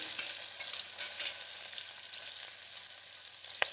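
Spices frying for dal khichdi while being stirred: a bright, even sizzle with occasional spoon knocks against the pan and a sharp clack near the end, close up with no voices.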